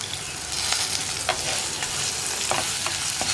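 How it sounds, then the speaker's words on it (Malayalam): Onions and curry leaves sauté in a pan, giving a dense, continuous close sizzle with a few light stirring scrapes and no voices. "ഇനി സവോളയും കൂടി വഴറ്റിയെടുക്കുക."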